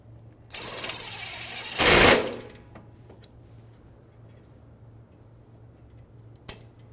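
A 10mm socket tightens a brace bolt on an AC condenser in a 2013-2018 Toyota RAV4, a brief rapid ratcheting burst and a louder whirring rush, followed by faint clicks over a low hum.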